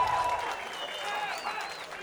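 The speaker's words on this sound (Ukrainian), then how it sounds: "Чуємо оплески." Spectators at a bare-knuckle fist fight event applaud from a distance, a soft continuous wash of crowd clapping heard under a commentator's talk.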